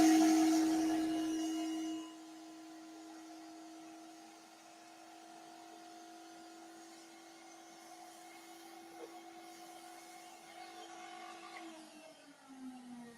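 A vacuum cleaner runs with a loud start that drops to a steady droning whine with a sustained tone, then shifts pitch near the end as it winds down.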